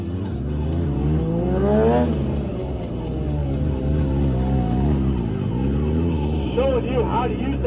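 A motorcycle engine revs loudly as a rider pulls a wheelie at a stunt show, the pitch rising and falling in waves while people talk and call out over it.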